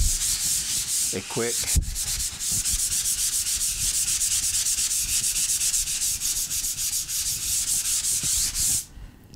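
Sandpaper is rubbed by hand across a skim-coated wall in rapid, rhythmic back-and-forth strokes, close and steady for several seconds, with a few spoken words near the start.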